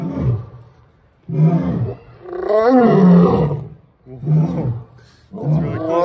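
A lion at a zoo roars repeatedly in loud, deep, grunting bursts, with one long, swelling roar in the middle and shorter ones around it, heard close and clear without talk.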